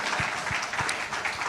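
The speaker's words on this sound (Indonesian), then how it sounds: "Tepuk tangan tuh Pak Ferry." Audience applause for Pak Ferry at a church sermon gathering, a steady wash of many hands clapping, moderately loud and continuous throughout.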